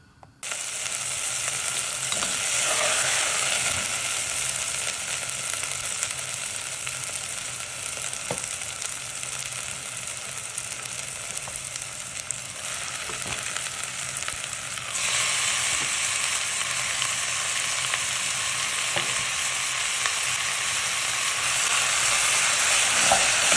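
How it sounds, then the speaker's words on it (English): Chopped onions fry slowly in a pan of sunflower oil, a steady loud sizzle that holds for the whole stretch and swells brighter partway through, with no voices over it. "In a pan with a little sunflower oil, add your chopped up onions and fry slowly until they soften"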